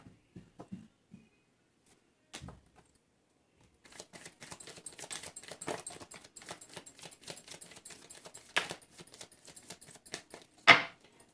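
Tarot cards being shuffled by hand in a quiet room, a steady run of fast riffling card flutters after a few scattered taps, ending in one sharp louder snap.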